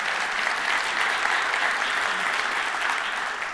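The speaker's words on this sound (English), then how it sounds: "To our Senator, John Cherry Jr., give him a round of applause." Sustained audience applause at a mayor's State of the City address in Flint, honoring a state senator; dense, even clapping fills the room without a break, loud and steady, with no voices over it.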